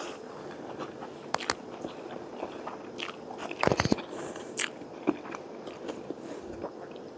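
Someone chews spicy Thai basil noodles with beef balls up close, making soft wet bites and slurps with a few sharper crunchy bursts.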